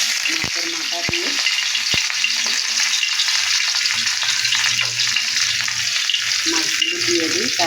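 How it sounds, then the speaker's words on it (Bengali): Rohu fish pieces fry in hot mustard oil in a pan, a loud, steady, close crackling sizzle throughout with a few sharp clinks of a utensil early on. "মাছগুলো দিয়ে দিলাম এবার ভালোভাবে পিটি ভেজে নেবো"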